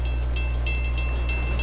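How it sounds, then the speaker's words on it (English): A moving train in the video game Uncharted gives a steady low rumble and hum, with faint rhythmic rattling and metallic clicks over it, continuous and fairly close, with no speech. "This train is just full of surprises, ain't it?"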